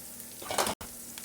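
Stir fry sizzling and browning in a hot pan, a short burst of loud frying hiss that swells as the food is stirred, with no talking.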